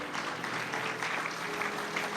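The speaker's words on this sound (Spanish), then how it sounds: "Démosle un aplauso al Señor" A church congregation at an evangelical service in Ciudad Eten, Lambayeque, applauds in a steady, dense wash of clapping that fills the whole stretch at a moderate, even level.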